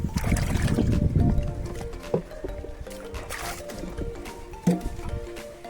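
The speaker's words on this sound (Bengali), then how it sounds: "জলগুলো ভালোভাবে নাড়িয়ে নেবো" Water with soaked mustard cake is stirred in a container for a rooftop dragon fruit plant, making close sloshing, swishing liquid sounds with a couple of louder splashes.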